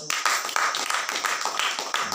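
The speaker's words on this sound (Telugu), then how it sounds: "గట్టిగా చప్పట్లు కూడా" A church congregation claps loudly in a quick, steady rhythm of sharp, close claps.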